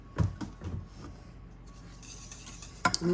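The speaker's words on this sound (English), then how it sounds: "Just make sure you whisk it in there really good." Garlic powder being whisked into acorn squash soup in a pot, a few quick metallic taps and scrapes near the start, then quieter stirring and a sharp clink at the end.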